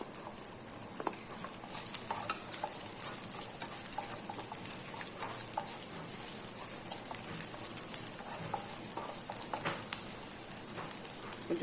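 Steady sizzling and light crackling of chopped onion sautéing in a pan, continuous and fairly quiet, with occasional soft clicks of stirring.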